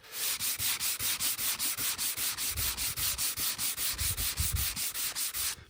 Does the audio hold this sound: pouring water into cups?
no